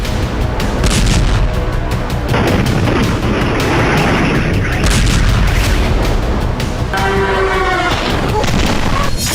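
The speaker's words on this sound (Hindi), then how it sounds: "यूक्रेनी सेना रूसी धरती पर नॉनस्टॉप विस्फोट कर रही है" Explosions in the Russia-Ukraine war, a dense run of heavy booms and blasts with crackling bursts, loud and continuous throughout with faint voices mixed in.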